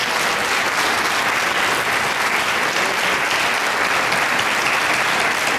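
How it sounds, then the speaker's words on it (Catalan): Steady, dense applause from an audience at a village gathering, the Aplec de Vila Alguaire, thanking the organising committee; continuous and fairly loud throughout with no pauses. "un bon aplaudiment per a ells"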